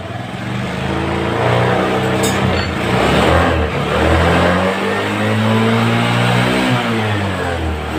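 A Honda BEAT scooter engine revved hard at full throttle during a charging-fault check, its pitch climbing and holding in a loud, close, buzzing whine before easing back and rising again.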